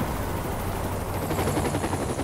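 Steady, loud helicopter rotor and engine roar from the video game Saints Row: The Third Remastered, a continuous dense wash with no speech over it.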